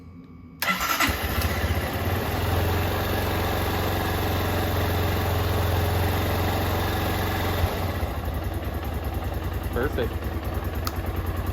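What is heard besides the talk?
2008 Honda CRF230L motorcycle engine idling after carburetor cleaning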